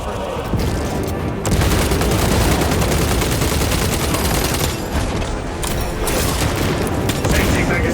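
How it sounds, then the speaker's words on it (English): In Warhammer 40k Space Marine 2, a frag grenade blast lands amid sustained loud gunfire, a dense close-up barrage of automatic shots and booms with a game voice calling out over the din. "Tossing frag grenade."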